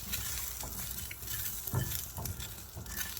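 Ogbono seeds are stirred in a hot pan, giving a continuous soft sizzling hiss broken by faint scraping and rattling strokes of the spoon, close and quiet.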